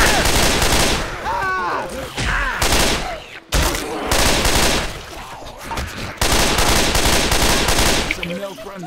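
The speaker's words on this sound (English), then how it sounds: "Shoot the smoke gun!" Rapid bursts of smoke gun fire in a zombie shooter video game, loud and dense with repeated cracks across most of the clip, briefly broken by short gaps, with voices talking underneath.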